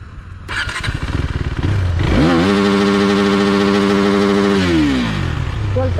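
A KTM Duke 390 motorcycle fitted with a Powertronic module revs hard to its 12,000 RPM limiter cut-off, the engine note climbing steeply and then holding a loud, strained, bouncing drone near the bike before dropping back.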